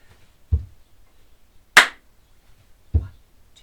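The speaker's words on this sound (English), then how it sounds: "So 4 times, stamp, clap with a rest in between." A class performing a body-percussion rhythm: a low stamp, then a sharp clap, then another stamp, each hit separated by a rest, moderately loud in a room with no talking.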